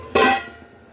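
Lid set down on a cooking pot while mustard hilsa (sorshe ilish) simmers: one sharp metallic clink with a brief ringing decay, close and alone.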